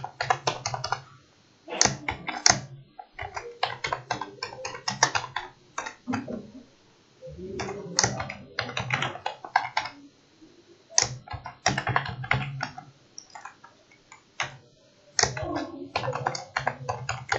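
JavaScript code being typed on a computer keyboard, with bursts of quick, close key clicks separated by short pauses and no talking.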